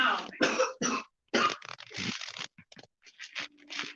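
A series of close, harsh coughs in short bursts, with a few quieter throat sounds and small clicks in between.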